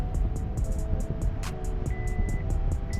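Inside a 1996 Mustang GT, the seatbelt warning chime repeats as a string of short, evenly spaced high beeps over a low road and engine rumble, with no voices.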